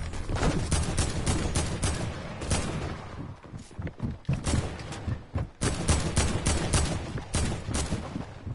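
Rapid SMG fire in a PS4 shooter game, several loud close bursts of sharp shots separated by brief pauses and a few thumps, with no talking.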